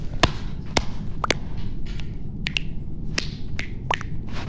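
A special rhythmic clap while playing Among Us: a string of sharp, close hand claps and snaps in an uneven pattern over a low steady background hum.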